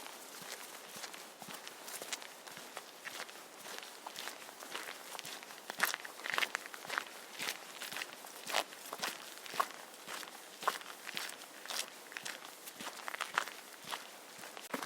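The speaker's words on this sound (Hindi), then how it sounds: "वो जंगल के रास्ते होकर जाने लगता है।" Footsteps walking steadily along a forest path, a continuous run of close, crunchy treads with an even rhythm and no other sounds.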